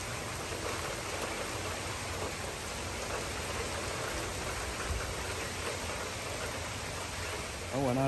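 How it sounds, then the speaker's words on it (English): Steady rain pours down outdoors during fence work, a dense even hiss of drops on surfaces, with a voice starting right at the end. "Here comes the rain."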